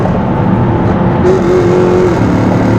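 Loud, close engine of a three-row SUV pulling hard through its gears, a steady droning roar with a rising tone as it accelerates, heard alone without speech.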